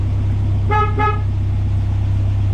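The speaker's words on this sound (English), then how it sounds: "There's a horn." Two short horn toots from a 1959 MGA 1600 roadster in quick succession over a steady idling engine rumble.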